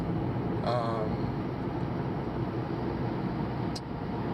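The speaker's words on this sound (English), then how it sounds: "I'm driving into work" Steady road rumble and engine drone fill a car's interior on the drive to work, loud and continuous, with a brief voice near the start.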